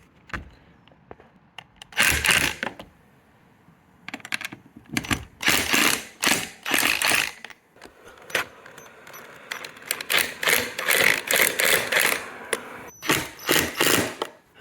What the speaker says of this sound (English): Let me just make sure this is screwed down properly.